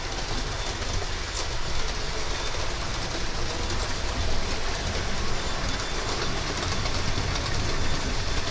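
Class 37 diesel locomotive train passing nearby, a continuous loud rumbling roar of engine and wheels with clattering rail noise throughout, steady and dense from start to finish.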